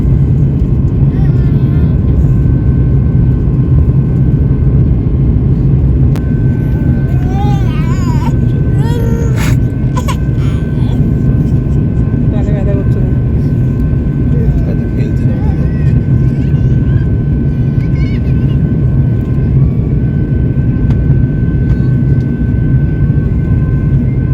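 Inside an airplane landing at an airport in Taiwan, a loud steady engine and cabin roar runs throughout, with faint talk and a brief child's cry in the cabin.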